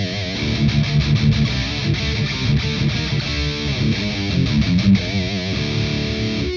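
Electric guitar through a multi-effects pedal with a custom impulse response and a scooped, distorted tone, playing a steady run of chords and notes alone for the whole stretch.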